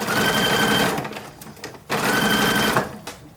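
A sewing machine stitches a 1940s WWII uniform in two loud, close runs of steady, fast mechanical whirring, separated by a brief pause.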